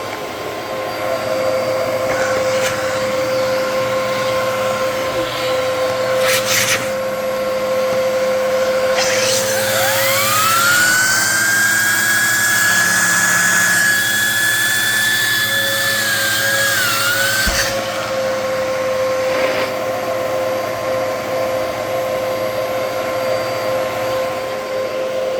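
A Bissell Cleanview Multi-Cyclonic 1330 upright vacuum cleaner runs steadily and loudly, with a constant motor whine and a rising tone from its turbo brush that swells midway through, then settles back to the base drone.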